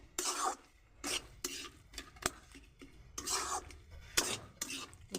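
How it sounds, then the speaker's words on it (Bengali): A metal spatula scrapes and stirs boiled potatoes with greens in a pan, giving repeated rasping strokes in uneven bursts with short pauses between them, close and clear. "আমি এরকম খুন্তি দিয়ে একটু আলুগুলা ঘেটে দিচ্ছি"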